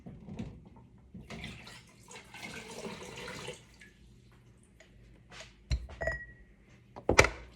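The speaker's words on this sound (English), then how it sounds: "We're going to start to turn up our water." Kitchen tap running water during a jelly remake, a faint broadband rush that stops, followed by scattered drips and a few soft thunks against the sink.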